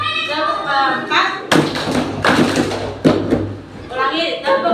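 A classroom of children claps in unison during a teacher-led clapping game, several loud group claps in a quick rhythm mixed with chanting voices and a noisy room.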